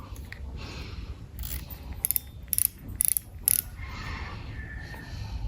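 A Ryobi Zauber LT 3000 spinning reel cranks with a soft whir, broken by a few sharp clicks in quick bursts, close and fairly quiet.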